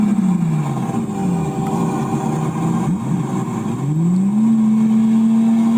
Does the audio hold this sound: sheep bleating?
no